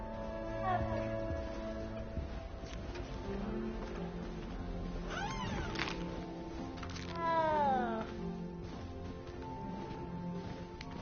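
A frightened cat in the Hogwarts Legacy video game gives several short, rising meows over a busy game soundtrack with faint background voices and tones.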